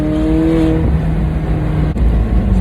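Exhaust of a McLaren 600LT Spider supercar with the roof open, a loud, steady low drone that dips in pitch as the revs settle, heard from inside the car close to the rear pipes.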